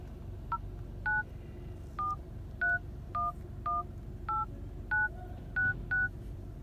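Keypad tones from hands-free calling on a WEBVISION M39 dashcam beep one by one, about a dozen short evenly spaced dialing tones over a low steady background hum.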